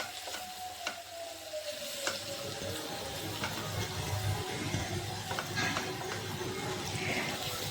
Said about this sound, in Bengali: মশলাটিকে খুব সুন্দর করে কষিয়ে নিতে হবে।